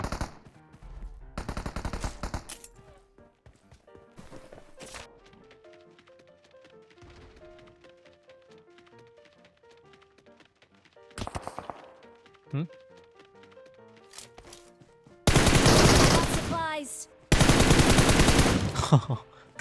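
Gunfire from a Groza rifle in PUBG Mobile, arriving in several separate loud bursts of automatic fire between quieter stretches of game sound, with a voice speaking in between.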